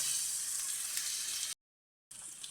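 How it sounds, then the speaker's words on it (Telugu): Ginger garlic paste with turmeric frying in a pan, a steady bright sizzle heard close up and alone, cut by a brief silent gap before the sizzling resumes. "అల్లం వెల్లుల్లి పేస్ట్ పచ్చివాసన పోయే వరకు వేయించుకోవాలన్నమాట."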